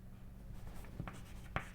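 Chalk or marker strokes on a lecture board during a physics class on small oscillations, a few faint scratchy taps with two sharper marks near the end, heard alone in a quiet room.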